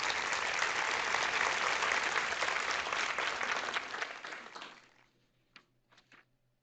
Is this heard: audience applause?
yes